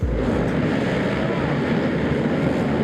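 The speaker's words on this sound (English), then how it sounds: "we're ready for the dead engine start here at the Wiseco John Penton GNCC" Dirt bike engines roar to life together at the dead engine start of a GNCC cross-country race, a dense, loud, continuous blare of many motorcycles filling the scene with no pauses.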